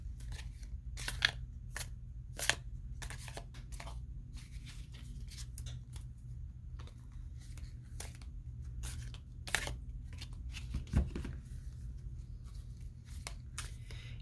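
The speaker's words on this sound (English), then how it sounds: "As I'm shuffling the cards" Tarot cards are shuffled close by, quiet papery riffles and snaps repeating irregularly over a low background hum.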